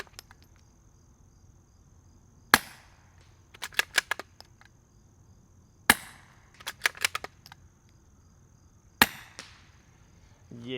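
Three quiet suppressed gunshots from a rifle with a four-baffle suppressor firing CCI Quiet ammunition, each a sharp close crack followed by a quick flurry of metallic pings as rounds strike steel targets, with quiet pauses between shots and no talk.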